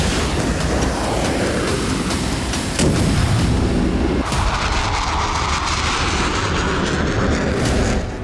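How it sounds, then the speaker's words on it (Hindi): Loud, continuous roar and rumble of Russian missile strikes hitting Kyiv, with heavy blast-like booms and a sustained low, jet-like drone running the full length, no speech. "जब रूस से दंदनाते हुई मिसाइलें हमले के लिए पहुंची"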